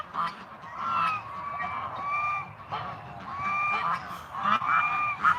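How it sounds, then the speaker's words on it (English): Geese honking repeatedly nearby, loud nasal calls in several bursts over steady wind noise. "I think I hear ducks behind me."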